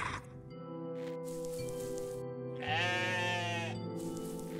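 A sheep bleats in a long, wavering cry in the video game OneShot, loud and close, over a steady tonal musical background.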